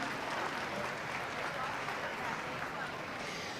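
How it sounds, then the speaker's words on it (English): A crowd at a youth cattle steer show applauds the young ladies showing their steers, a broad, even wash of clapping heard from a distance in a large arena, with possible chatter underneath. "let's go ahead and give these young ladies another big round of applause"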